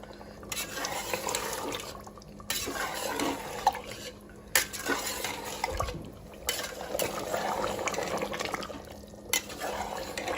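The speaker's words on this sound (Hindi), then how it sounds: "थोड़ी देर इसे हम भून लेते हैं मीडियम फ्लेम पर।" Mutton liver (kaleji) frying in a pan over a medium flame, giving a steady close sizzle with occasional stirring scrapes and clinks of a utensil against the pot throughout.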